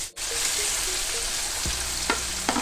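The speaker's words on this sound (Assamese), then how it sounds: "সিজাই লৈ পিটিকি লোৱা জলফাইখিনি এতিয়া তেলত দি দিম" Boiled, mashed jolphai olives sizzle steadily in hot mustard oil for a pickle, a loud, close, continuous frying hiss with a few light spoon knocks near the end and no talking.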